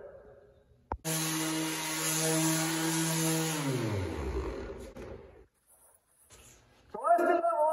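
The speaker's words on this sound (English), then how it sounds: "I still have a lot of work to do sanding down this truck" A power sander works the bodywork of a truck, a steady loud whine with strong tonal hum that winds down after a few seconds, followed by a short quiet gap and a brief burst of another noise at the end.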